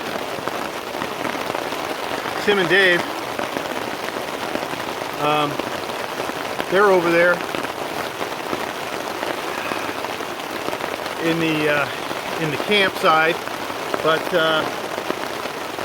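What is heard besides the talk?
rain falling on a tent while camping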